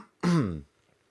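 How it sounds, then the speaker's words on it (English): A single throat clearing, close and fairly loud, lasting about half a second with a rough voiced rasp before fading into quiet. "I'm going to clear my throat."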